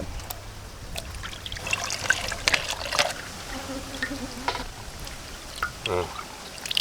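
An animal brain is washed in water before being steamed and grilled, with splashing, trickling and pouring sounds close by in short bursts, and a voice talking faintly over part of it.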